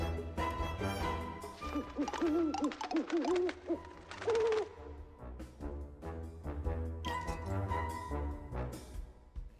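An owl hoots in the video game Puppeteer, several wavering calls rising over layered game music and ambience, moderately loud, no speech.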